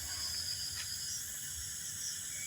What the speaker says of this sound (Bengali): ঝিঝি পোকার ডাকছে।